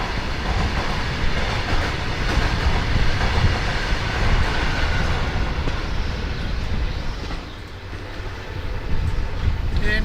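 The Ranikhet Corbett Park Link Express rolls out of Kishangarh station, a continuous broad rumble of railcars and wheel clatter heard up close with wind buffeting, steady throughout with a slight dip near the end.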